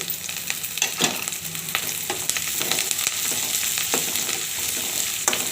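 Ginger, asafoetida and curry leaves fry in a pan for katte pongali, giving a steady close sizzle punctuated by occasional stirring clicks and scrapes.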